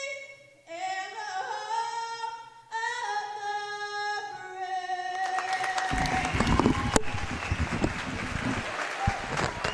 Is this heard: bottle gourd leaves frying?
no